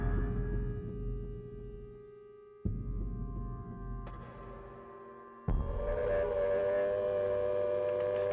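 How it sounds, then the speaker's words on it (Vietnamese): Air raid siren sounding over Malta in June 1942, a sustained wailing tone with steady harmonics, stepping up in pitch and loudness in stages and held loud and continuous throughout. "Còi báo động cất lên lúc 7 giờ sáng ngày tháng 6 ấy"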